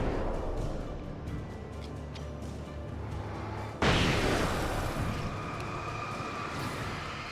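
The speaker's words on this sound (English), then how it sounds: "flashbang" A flashbang in the Alan Wake Remastered video game goes off as a sudden sharp blast partway through, after a stretch of muffled rumbling game sound. It leaves a loud, bright ringing wash that slowly settles.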